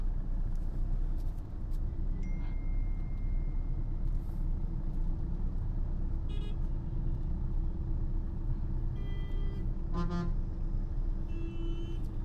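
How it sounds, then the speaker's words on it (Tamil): Dense city traffic in Chennai surrounds a moving car, a constant low engine rumble with scattered horn toots near and far, no talk. "இப்போ இங்கே தான் டிராஃபிக் அதிகமாக இருக்குது."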